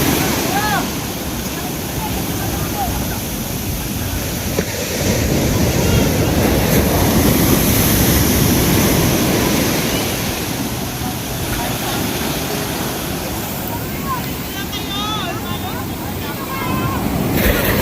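Big ocean waves crash and roar close by in a continuous, surging wash of surf, with heavy wind buffeting the microphone and people talking over it.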